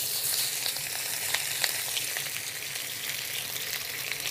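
Shrimp stir-fry in a hot wok on a Bluestar range, giving a loud, steady, close hiss of sizzling with small crackling spikes and faint stirring ticks throughout. No one speaks.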